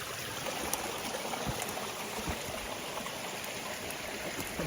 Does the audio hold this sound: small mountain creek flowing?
yes